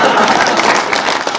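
Audience applause at a Hindi comedy poetry show, a brief dense burst of clapping from a crowd, loud and close throughout.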